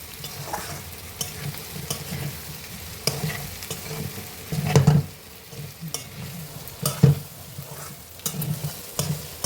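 Bitter gourd pieces sizzle steadily in a hot pan while a spoon stirs them in repeated scraping strokes, with a few louder clattering stirs standing out near and clear.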